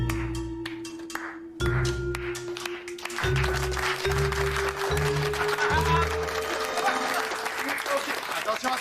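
Students in a school setting applaud to vote for student council co-presidents, a burst of clapping rising over background voices and music, building into sustained, fairly loud applause.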